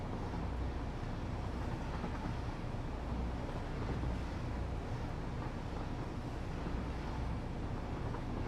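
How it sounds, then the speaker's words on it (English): A train in the video game Satisfactory rumbles steadily along the rails, a continuous broadband roar with low droning hum and no clear breaks, held at an even moderate level throughout. "I'm waiting for our train to get back to our other location"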